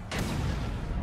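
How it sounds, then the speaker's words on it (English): An explosion in Spider-Man on PS4, a short, loud, deep boom with a broad rumbling tail that lasts about a second. "Explosions. It's like a Michael Bay movie."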